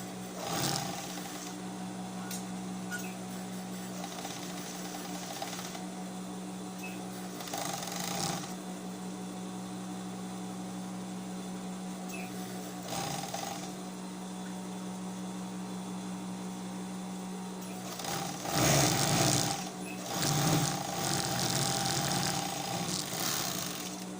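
A sewing machine runs a seam on a sweatshirt with a steady motor hum, briefly pausing and restarting, and louder, busier stitching toward the end; no voices.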